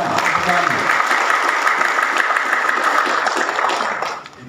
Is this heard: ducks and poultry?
no